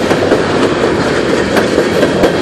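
A CSX freight train led by locomotive 391 rumbles past close by in Charlottesville, Virginia, loud and continuous, with the rhythmic clack of wheels over rail joints.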